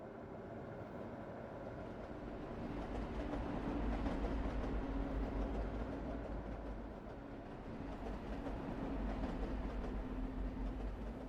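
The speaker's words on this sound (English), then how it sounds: "You guys can see the trains move about." Trains in the game Eden Crafters rumble steadily along with a continuous rolling, clattering drone that swells and eases slightly, with no talk over it.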